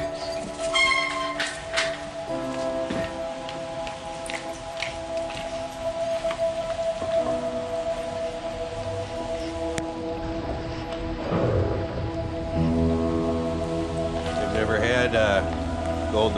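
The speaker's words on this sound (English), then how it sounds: "We're just all outside filming a video together in the rain." Rain falls outdoors in a steady patter on surfaces nearby, a continuous wash of drops lasting throughout, with scattered other outdoor sounds and faint activity mixed in.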